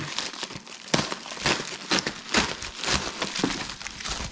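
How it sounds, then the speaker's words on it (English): Crinkling and tearing of a bubble wrap package being ripped open by hand, close and busy with irregular crackling bursts and rustles. "we've got our package, bubble wrap, really nice. Let's go ahead and rip this open."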